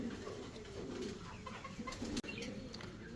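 A pair of fancy shirting pigeons, sold as a family package, coo and cluck softly at close range, a low steady murmur broken by one brief gap.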